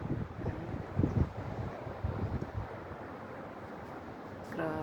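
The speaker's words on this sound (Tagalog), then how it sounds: "Tapos ang lakas ng hangin, ya Allah." Strong gusty wind buffets the microphone outdoors during rain, a rough low rumble rising and falling in bursts, fairly faint overall with no clear talk.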